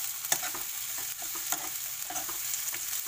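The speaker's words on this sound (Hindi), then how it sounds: "ये हाई फ्लेम में ही फ्राई कर लीजिए।" Cabbage and vegetables for chopsuey fry on a high flame, giving a steady close sizzle with scattered stirring clinks and scrapes throughout, no voices.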